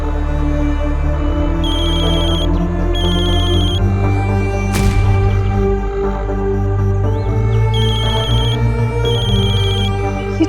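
A second phone rings with a repeating electronic ringtone, its trilling bursts coming in regular pairs at close range over a loud, droning musical background.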